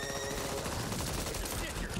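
Gunfire in the zombie shooter Back 4 Blood crackles as dense, continuous fusillades of rapid shots, loud and close, with no pauses across the short burst.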